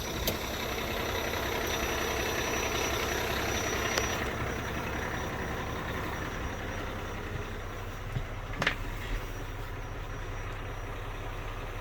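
A Mack Titan heavy-haul truck with a Landau trailer idles with a low, steady diesel rumble, heard alone with a couple of brief clanks near the end.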